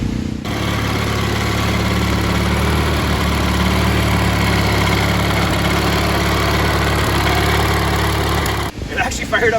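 An old yard tractor engine, 43 years old and freshly started after storage, runs steadily and loud up close with a constant low drone, cutting off near the end.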